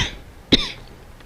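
A single sharp cough bursts out mid-clip, loud and close, alone against a quiet background with a faint trailing tail.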